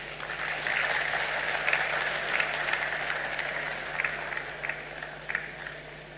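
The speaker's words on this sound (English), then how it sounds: "Let's give another round of applause to him" A round of applause fills a memorial gathering, steady many-handed clapping from a crowd sustained throughout at moderate level, with a few louder bursts standing out.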